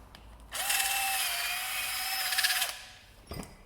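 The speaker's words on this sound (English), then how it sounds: "then a flap wheel in a drill" A flap wheel spun by a drill grinds inside a leaf spring eye, a bright, high whirring scour that starts abruptly, holds for about two seconds with slight wavering, then stops, followed by a brief clunk; quiet and close.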